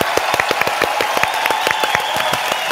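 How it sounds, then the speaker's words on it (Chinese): Hands clap in a quick, steady rhythm during a live-stream broadcast, the sharp claps close and fairly loud over a light background hum. "再给大家一点掌声"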